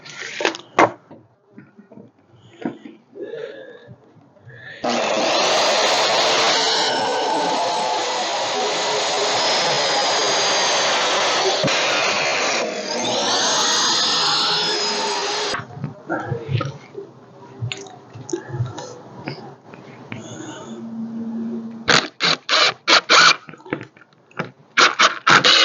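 A saw cuts a board just under 48 inches long in half while a motor stand is being built, a loud steady rasp lasting about ten seconds between bursts of clatter and knocks.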